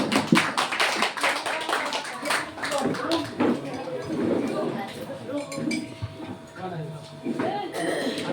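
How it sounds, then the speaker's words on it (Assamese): A church audience applauding the worship team at a Christmas service, irregular claps and taps in a lively burst that thins out and returns near the end. "সকলোৱে উঠি পিনি হাত চাপৰি দিয়ক ৱৰ্শ্বিপ টিমৰ কাৰণে"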